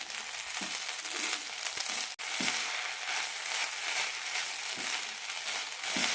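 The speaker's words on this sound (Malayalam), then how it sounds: "രണ്ട് മിനിറ്റ് അരി നന്നായി ഒന്ന് വറുത്തെടുക്കാം" Rice sizzles steadily in a hot pan for coconut milk ghee rice, with a dense frying crackle and occasional scraping knocks from stirring, close and continuous.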